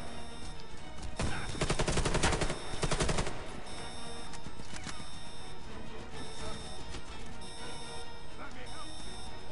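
Hard-hitting FY-47 rifle shots in the shooter game Warface, a dense burst of loud gunfire in the first few seconds that trails off into quieter, scattered shots and ambient game noise, with a voice talking over it.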